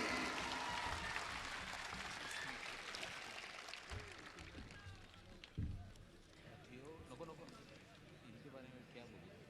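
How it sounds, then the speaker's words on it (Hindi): Audience applause welcoming Waman Meshram to the microphone at a BAMCEF Save Faith and Constitution Movement gathering, a broad sustained clatter of many hands that slowly thins over several seconds, with crowd noise and some voices mixed in. "पुरजोर तालियों से इनका इस्तकबाल कीजिए।"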